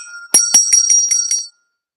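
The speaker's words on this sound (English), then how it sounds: "bell ring." A bell rings in a quick series of about six bright, metallic strikes, loud and close, with no talking over it, then falls silent.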